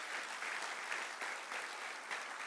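A church congregation claps together in a rhythmic pulse, the applause swelling in regular beats, heard at a moderate distance in a reverberant room.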